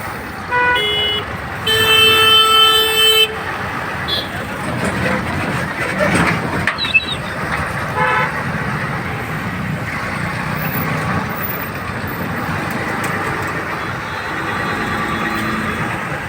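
Traffic jam at Chandrapada with cars and trucks backed up: a loud, sustained horn blast rings out early over a constant rumble of idling and creeping vehicles, with lighter honks and road noise continuing throughout.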